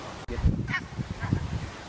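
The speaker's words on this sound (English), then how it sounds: "I tried to get Jonathan to chase some of these geese" Geese honk several times in quick succession close by, outdoors on a trip in Scandinavia, with a short burst of calls and light background noise.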